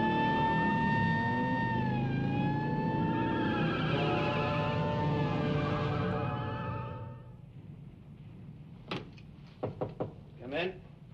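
Siren on a car during a chase in a 1936 film, a loud wailing tone that rises and falls for about seven seconds, then fades out. A few short knocks follow near the end.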